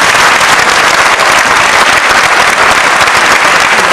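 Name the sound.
audience applause for the performers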